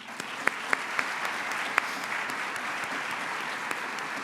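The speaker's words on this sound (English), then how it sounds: "Let's give another round of applause to the Expanded Memory Dance Project" A conference audience at a morning session in Mexico applauds a dance performance, dense steady clapping from many hands with a few sharper individual claps standing out near the front.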